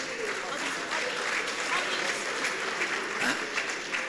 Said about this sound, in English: Could we also give him a round of applause?